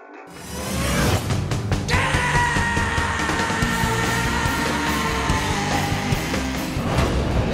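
A raw, sustained scream rises over a loud, distorted rock band and holds at full intensity for several seconds alongside the dense wall of guitars and drums.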